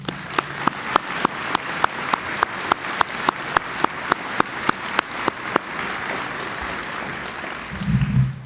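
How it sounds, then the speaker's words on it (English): Rhythmic hand clapping from a crowd at a college graduation ceremony, steady sharp claps at a brisk pace for several seconds before trailing off into a murmur. "a round of applause"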